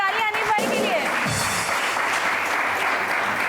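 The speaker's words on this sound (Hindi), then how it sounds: "बहुत सारी तालियां" An audience applauds on a studio entertainment show, dense sustained clapping that fills the whole stretch, with a voice briefly heard at the start.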